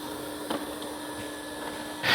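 An ECOVACS DEEBOT T90 PRO OMNI robot vacuum in standard mode, about 58 dB: a quiet, steady mechanical hum with a soft whirring hiss throughout, a brief brushing noise midway and a louder rustle at the end.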